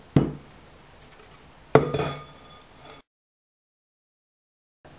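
Two sharp clinks of chopped oranges and utensil against a dish as they are moved into a salad bowl, each followed by a short rattle and scrape, close and clear before the sound cuts to silence.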